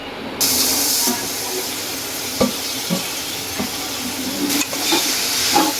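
Bottle gourd for halwa roasts in hot ghee in a pan, giving a soft, steady sizzle broken by occasional stirring knocks and scrapes.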